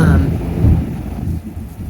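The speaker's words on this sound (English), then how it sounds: "hear the thunder" Thunder rolling outside during a storm, a heavy low rumble with a steady rain-like wash that swells and eases across the short stretch.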